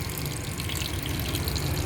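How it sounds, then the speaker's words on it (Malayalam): Water poured or running into a pan of amaranth stem curry seasoned with chilli powder, turmeric and salt, a steady close gushing splash that continues evenly throughout. "കുറച്ച് വെള്ളം"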